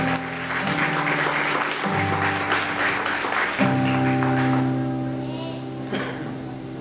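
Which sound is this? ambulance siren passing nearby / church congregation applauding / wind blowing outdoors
church congregation applauding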